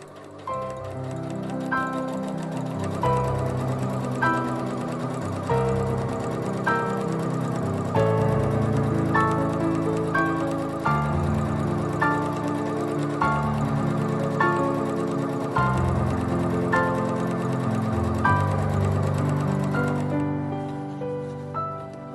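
A sewing machine stitches the sleeves of an Art Nouveau dress bodice, running in a steady rapid ticking rhythm for a long stretch with brief pauses and restarts.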